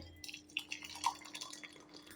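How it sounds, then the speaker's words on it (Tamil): Homemade winter soup seasoned with pepper and masala is poured into a cup, giving faint, close trickling and scattered drips against quiet kitchen background. "இப்போ சூப் எடுத்து அப்படியே கப்பில் ஊற்றிக்கலாம்."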